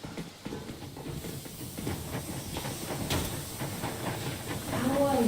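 A steam train in the Metro Exodus video game hisses continuously, with rumbling rail noise building louder toward the end, a rising whistle-like tone at the close.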